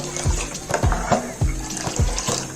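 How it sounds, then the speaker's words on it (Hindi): Milk for Kashmiri pink tea is whisked or beaten in a pot, giving rhythmic liquid sloshes and splashes roughly twice a second, close and clear. "साथ साथ हम इसको ऐसे दूध को फेंटेंगे।"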